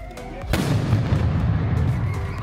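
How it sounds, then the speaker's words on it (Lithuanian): A ceremonial cannon fires an honorary shot for the independence of Lithuania, Latvia and Estonia at a historic car rally event, a single loud boom with a long rumbling decay, heard outdoors amid faint crowd noise. "3 šalių garbiai paleisti patrankų šūviai už Lietuvos, Latvijos ir Estijos nepriklausomybę"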